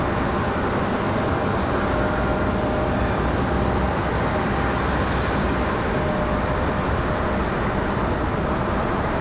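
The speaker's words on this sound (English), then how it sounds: "An arrival. I think this is another Embraer" An Embraer E175 jet arrives at night at Raleigh-Durham airport, a steady broadband roar of engine and wind noise holding constant, distant and unbroken.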